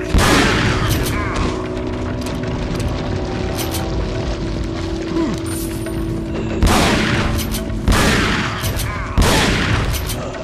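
Shotgun blasts from the video game Resident Evil 4: Separate Ways ring out loud and close, with one at the start and three more spaced a second or so apart near the end, over constant game noise and someone talking.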